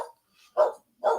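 Dogs bark outdoors at night near a chicken enclosure with an electric fence, guarding against coyotes: a faint yip followed by two loud, sharp barks spaced about half a second apart.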